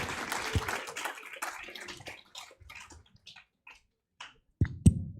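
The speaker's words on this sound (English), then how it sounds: "So give all of our candidates a warm round of applause." Applause from a seated audience at a candidate forum in Amarillo, a dense patter of claps that thins to scattered claps and then stops, with a few sharp louder claps near the end.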